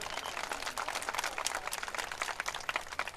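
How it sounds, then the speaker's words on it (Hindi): Audience at a political rally in Solapur clapping, a dense, fairly faint patter of many hands that stays even throughout with no talk over it. "देखिए ताली बजा रही है"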